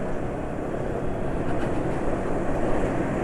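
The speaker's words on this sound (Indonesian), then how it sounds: "dari awal berangkat suara mesin halus" A steady motorcycle engine hum runs evenly throughout, running on GGI Maxoil Power SAE 40 oil, smooth and continuous with no talking, idling or cruising nearby.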